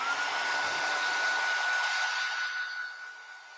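Handheld heat dryer blowing over wet Distress spray ink: a steady, close whooshing blast with a thin high whine, fading slightly toward the end, with no talking.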